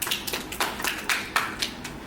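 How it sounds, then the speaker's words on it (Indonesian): Sparse, faint clapping from a small talk show audience, a handful of soft claps spaced irregularly over a quiet room. "mari tepuk tangan."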